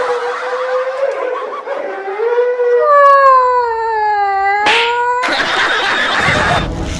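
A human voice imitates a dog howling: a long, wavering, falling howl rises mid-clip after some brief vocal sounds, then gives way to a noisy burst at the end.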